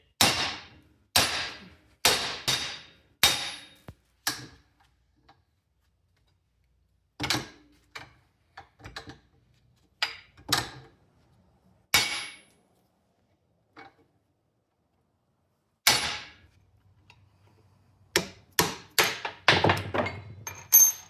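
Hammer strikes drive a U-joint cross out of the yoke ears of a 2003-2024 Dodge Ram 2500/3500 front axle shaft held in a vise, the bearing caps already off; sharp metallic blows come in quick bursts with pauses, and a rattling clatter follows near the end.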